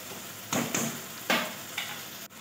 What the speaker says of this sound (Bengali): ততক্ষণ আমি কিন্তু মশলাটা কষাতেই থাকবো